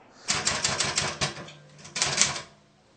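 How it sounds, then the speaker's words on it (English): Rapid typewriter keystrokes in two bursts, clacking in quick uneven rhythm with a short pause between, close and fairly loud. "This type of typewriter is found in many police stations."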